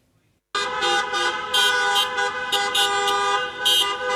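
Car horns honking in a protest caravan of merchants, tenants and employees driving around the Abasto shopping mall, several loud overlapping toots and blasts sounding together after a brief quiet start.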